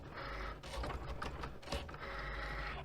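Cricut cutting machine slicing glitter iron-on vinyl on a mat, a steady close mechanical whir and ratcheting carriage movement with brief shifts in pitch, no talking.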